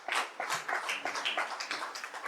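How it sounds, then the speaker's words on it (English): Scattered applause from a modest audience at a Democratic Labour Party branch meeting in St. Philip North, Barbados. The claps are dense and uneven, fairly soft, with no talking over them. "Give our women of this party a round of applause."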